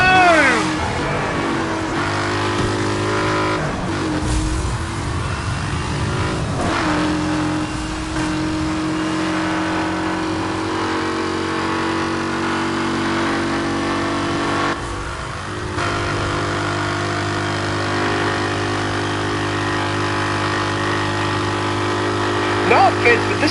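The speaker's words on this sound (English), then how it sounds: "this car sounds like it's letting off a fart" Engine in a Need for Speed Hot Pursuit race car revs and drones steadily and loudly throughout, with shifting pitch and a few brief dips, under excited talk from a player.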